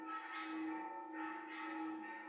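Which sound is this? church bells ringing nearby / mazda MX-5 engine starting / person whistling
church bells ringing nearby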